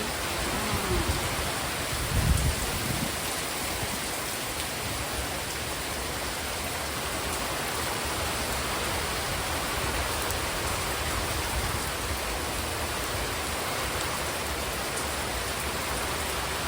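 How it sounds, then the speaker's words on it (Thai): Heavy rain pours steadily on an orchard during a downpour, a dense continuous hiss of drops on foliage and surfaces without letup, with a few brief nearby knocks early on. "ฝนตกแรงมากเลย"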